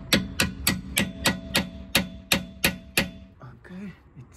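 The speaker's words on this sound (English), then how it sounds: "So I decided to use an impact gun instead of the ratchet." An impact gun rattles at a Toyota iQ nut during coil spring work, firing about nine sharp, evenly spaced hammering bursts close by over a steady motor hum, then stopping as a faint voice follows.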